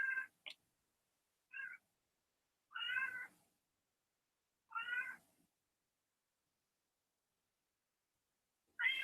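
A house cat meows close by, about five separate calls spaced irregularly with quiet gaps between them, some short and some drawn out, with no talking.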